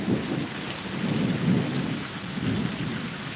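A severe thunderstorm in Pittsburg, Kansas: steady heavy rain pours throughout while low thunder rumbles swell and roll in several waves, fairly close and loud, with no voices.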